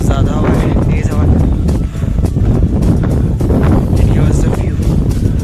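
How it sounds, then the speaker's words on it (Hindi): Strong wind gusting across a mountain summit trail on Kalsubai, Maharashtra's highest peak, a loud, steady roar buffeting the microphone throughout, with voices talking underneath. "ज्यादा हवा है तेज हवा"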